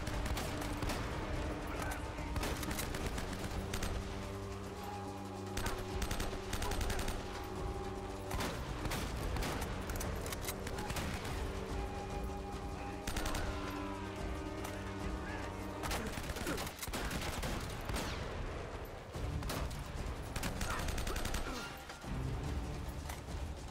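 Repeated shotgun blasts and gunfire in the video game Uncharted, loud sharp bursts punctuating a dense bed of game music and mechanical clatter, firing in irregular clusters.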